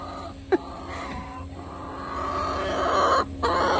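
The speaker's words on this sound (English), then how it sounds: "The chickens are so loud." Chickens in a coop clucking loudly and continuously nearby, with sharp squawks and a wheezy crowing note breaking through.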